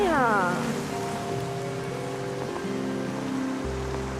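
A downpour of heavy rain hisses continuously throughout, with tonal music layered over it and no speech heard.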